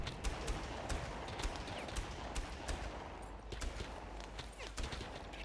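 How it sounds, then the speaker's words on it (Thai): Enemy gunfire in Far Cry, with a steady stream of rapid, moderately distant shots and short bursts crackling over a dense outdoor background, the volume fairly even throughout. "พวกมันยิงพวกมันยิง"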